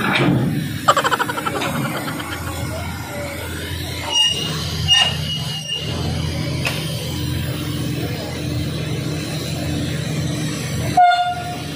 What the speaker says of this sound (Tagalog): ang tren na maiksi